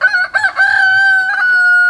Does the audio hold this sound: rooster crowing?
yes